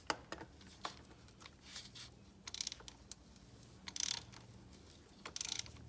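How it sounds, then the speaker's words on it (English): Ratchet with a 32mm socket on an extension loosening the oil filter housing of a Saab 9-3, heard as faint, scattered clicks and metallic ticks building to a few louder bursts of rapid ratcheting, with no talk. "We're going to use a 32mm socket with an extension on to get that off."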